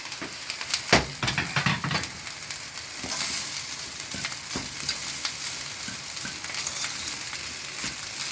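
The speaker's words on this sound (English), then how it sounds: "Put the rice in the pan." Egg fried rice crackles and hisses loudly in a very hot pan, a steady dense sizzle with a few sharp scraping stirs and knocks near the start, with no one talking.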